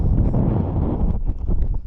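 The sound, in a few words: strong wind on a high hillside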